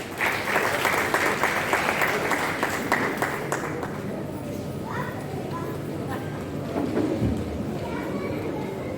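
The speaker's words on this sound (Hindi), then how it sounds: "जोरदार तालियों से उनका स्वागत करें।" Audience applause welcoming someone speaker to the stage at a women's empowerment event, loud and dense at first, then thinning to scattered claps with some crowd chatter.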